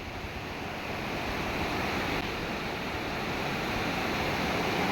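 A steady, loud rush of rainwater flowing past a house during a downpour in Junagadh continues without a break, a dense wash of noise with no voices.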